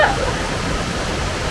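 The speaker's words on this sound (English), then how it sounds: "we've made it to the waterfall with OZ" Steady, dense rushing roar of a waterfall on the Gibb River Road, loud and unbroken throughout.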